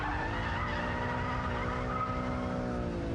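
A BMW Z3 M Roadster drifting, its tires squealing in a loud, sustained skid with a steady engine drone underneath, continuous throughout with no voices.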